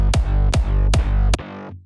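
Layered synth bass made of sub, drop bass and mid layer from a track, four punchy pitched hits with falling pitch sweeps in a steady rhythm, the last note held and decaying, loud and alone.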